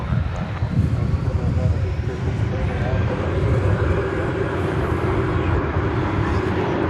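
An American Airlines Airbus A320 at DFW Airport roars steadily and loudly throughout, its engine noise mixed with heavy wind buffeting on the microphone.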